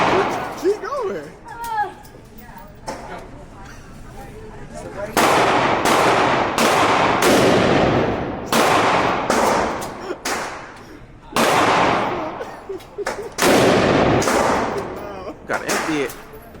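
Handgun shots at a shooting range bang loudly and close, fired in a quick irregular string of sharp cracks with brief gaps between, while people talk nearby.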